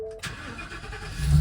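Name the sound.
2022 Ford E-350 box truck engine starting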